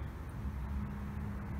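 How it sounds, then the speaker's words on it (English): Low, steady rumble of road traffic in the background, a continuous hum without distinct passing vehicles. "exclude the sound of the traffic in the background."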